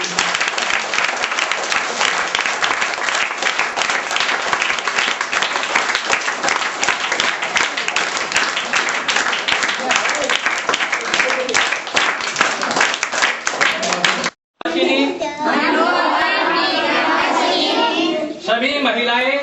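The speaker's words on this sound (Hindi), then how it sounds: "एक मिनट की ताली बजाओ।" A large gathering claps in dense, sustained applause for about fourteen seconds. After a brief break, crowd murmur and voices, including children's, fill the space.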